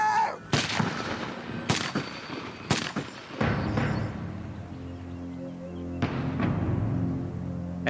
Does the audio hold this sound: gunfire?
yes